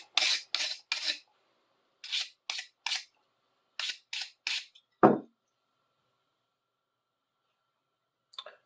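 Rough rubbing strokes from heavy gunk being wiped off an old, still-sharp tool, coming in short close bursts of two to three in a row, then a single deeper thump and near silence.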